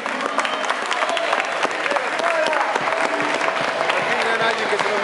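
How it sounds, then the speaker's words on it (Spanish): Loud, steady applause from a crowd at a cosplay contest winner announcement at a fan festival, dense clapping that fills the whole stretch with faint cheering and voices mixed in. "¡Fuerte el aplauso a la ganadora del cosplay de Yukai Fest!"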